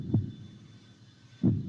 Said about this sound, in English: I have to love the heartbeat music though